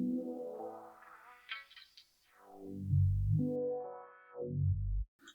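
A guitar sample swept through a sharp, narrow bell filter as a tonal riser, its resonant peak gliding up and down in pitch across a few seconds, dry and alone.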